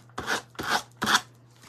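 Three rhythmic rasping strokes of sandpaper rubbing against an edge, close and evenly spaced, with a faint low hum beneath.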